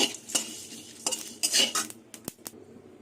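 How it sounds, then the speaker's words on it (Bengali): Whole spices are dry-roasted in a pan for a mango pickle, with a spoon clinking and scraping against the metal in quick irregular strokes and only a faint crackle underneath. "মশলা ভেজে নিয়েছি"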